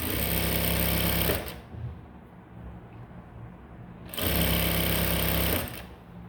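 A sewing machine stitches the back and front pieces of a blouse in two loud, steady bursts of about a second and a half each, with a quieter pause between them and no talk.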